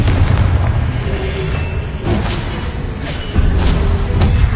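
A Confringo blasting spell explodes in the Hogwarts Legacy video game, a loud, heavy boom in a constant roar of rumbling bursts. Fresh impacts hit near the middle and again near the end.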